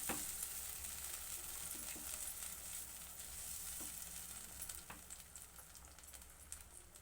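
Tomato puree for rajma curry fries in a pan with a steady, fairly faint sizzle, joined by a few soft stirring scrapes.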